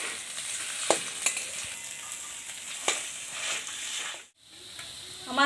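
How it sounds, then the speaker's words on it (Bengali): Boiled potatoes sizzle gently in a hot pan while being stirred, with occasional scrapes and taps of the spatula over a continuous soft frying hiss. "সিদ্ধ করে রাখা আলুটাকে দিয়ে আমি 3-4 মিনিট মতো ভালো করে নেড়ে নেব"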